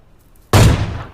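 A single AWM sniper rifle shot in PUBG Lite on the Golden Wood map: one sudden, loud, close crack with a booming tail that fades over about half a second.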